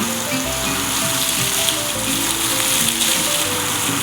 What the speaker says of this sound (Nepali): यसरी यो फाउन्टेन पानीको डिजाइन बनाएको छ।